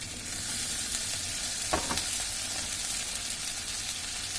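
Spices sizzle in a pan with onion, water and turmeric, a steady close frying hiss with a brief stirring scrape partway through; no voices.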